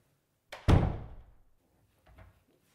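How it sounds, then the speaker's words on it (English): An interior door fitted with laminated glass swings shut with a single solid thunk, close and fairly loud, followed a moment later by a faint softer knock as it settles. "when I close this door"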